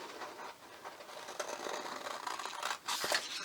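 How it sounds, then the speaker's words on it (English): Scissors snipping through paper in short, uneven cuts, close by with no talking. "I would probably just use my scissors to go along the edges carefully."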